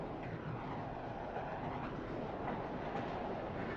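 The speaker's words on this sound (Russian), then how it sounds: "Какая скорость. Прекрасный поезд." A speeding train rumbles steadily past, a continuous low roar with faint rhythmic rail clatter, heard alone at moderate distance.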